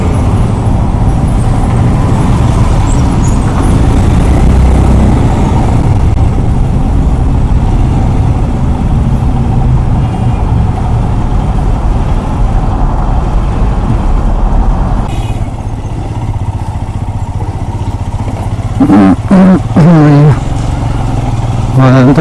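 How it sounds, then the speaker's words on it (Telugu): Busy mountain road traffic between Ramban and Srinagar, a loud steady roar of passing cars and trucks close by, with engine and wind noise continuous throughout and a few sharp horn-like tones near the end. "అంత ట్రాఫిక్ ఉంది చూడండి."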